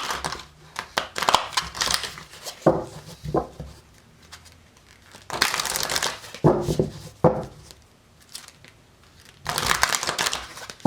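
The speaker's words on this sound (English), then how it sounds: "Alright, a couple more shuffles here." Cards are shuffled in several quick bursts, papery riffles and flutters separated by short pauses, close by with no talking.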